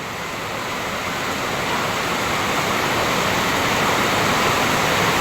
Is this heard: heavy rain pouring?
yes